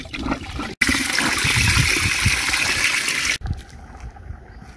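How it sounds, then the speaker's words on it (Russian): Water from a house roof is poured into a drainage channel and rushes along it in a steady, fairly loud gush for about two and a half seconds, then cuts off abruptly, leaving quieter trickling. "в это место будет направлена вода с крыши дома"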